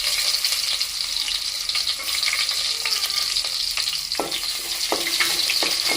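Finely chopped onion pieces fry in oil on low heat for a Nellore fish curry, giving a steady close sizzle with occasional clinks of a spoon stirring the pan, no voices.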